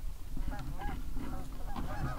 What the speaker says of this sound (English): We're gonna have a lot of geese working right at once, boys.